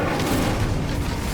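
An Incendio fire spell cast in Hogwarts Legacy, a loud, dense whooshing burst of flame that holds steady and full for just over a second.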